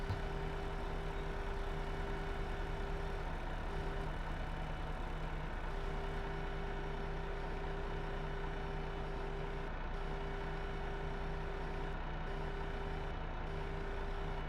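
A truck in Farming Simulator 15 forestry work runs with a steady engine drone, and an intermittent electronic beep sounds throughout at a constant level.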